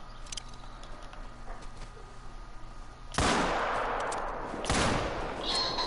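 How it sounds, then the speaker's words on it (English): Pistol shots in the hunting game theHunter: Call of the Wild, two loud sharp blasts a couple of seconds apart, each with a long rumbling tail, following a quiet outdoor stretch. "I'm actually gonna pull out the pistol now."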